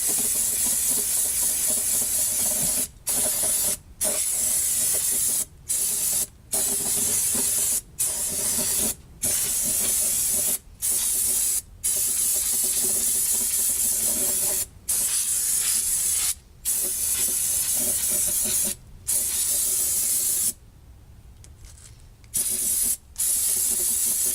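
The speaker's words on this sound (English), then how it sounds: "Good heavy dose of brake cleaner just to get everything nice and clean." Brake cleaner aerosol sprayed in a heavy dose over an engine valve cover, a loud broadband hiss coming in repeated bursts of one to two seconds broken by short pauses, with a longer gap near the end.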